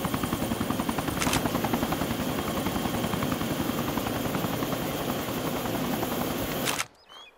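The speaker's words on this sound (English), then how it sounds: "You have to buy the helicopter Frankie" Helicopter in the video game Arma 2: DayZ Mod, a loud steady rotor chop with a continuous whine running throughout, cutting off abruptly near the end into quiet.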